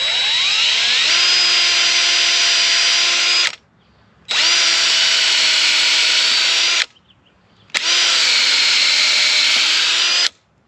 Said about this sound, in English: I use my 1/4 inch long bit, and I'll drill essentially a pilot hole.